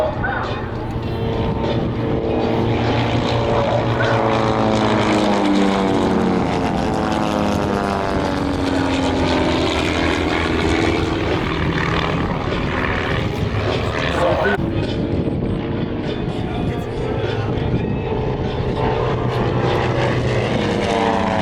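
Propeller aircraft flying display at the Oshkosh EAA AirVenture 2025 airshow, a loud continuous engine and prop drone with shifting pitch as the planes pass, heard under steady commentary over the public address.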